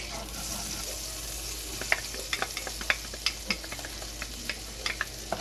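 Garlic fries in about two tablespoons of butter in a pan, giving a steady close sizzle with scattered sharp crackles and light stirring clicks. There is no speech.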